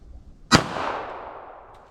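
A single sharp gunshot from a .32 handgun cracks loudly and close, then rings out in a decaying echo over the next second and a half, with no voices.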